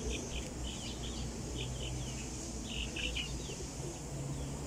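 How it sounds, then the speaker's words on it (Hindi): Sialkoti pigeons chirp and coo in short repeated bursts over a steady background hum, with a few thin bird calls scattered among them, heard at moderate distance. "वेखो जी माशाल्लाह सियालकोटी कबूतर बहुत ही आला क्वालिटी का।"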